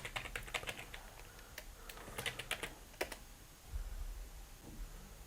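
Quick clicks of a computer keyboard being typed on, coming in short bursts of keystrokes close to the mic. They pause briefly and end with a soft thump, and no one speaks.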